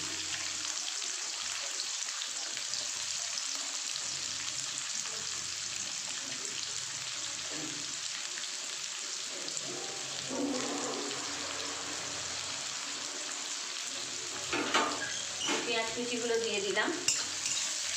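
Chopped onions fry with cumin seeds in a pan for a paneer dish, giving a soft, steady sizzle at moderate distance. A few brief stirring scrapes come near the end, with no talking.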